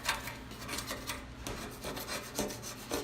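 A stove top is scrubbed by hand with hard effort, giving a rapid, rhythmic rasping rub of repeated back-and-forth strokes, close and fairly quiet, with no talking.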